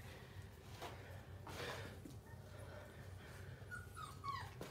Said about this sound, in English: Come on, puppies.